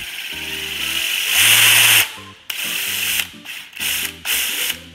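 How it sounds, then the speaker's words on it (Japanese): A Black & Decker MultiEvo sander head attachment spins up and vibrates rapidly, a loud close mechanical whir with a stepped, ratcheting pitch that rises, cuts out briefly, then resumes in uneven bursts. "早く振動をして研磨をします。"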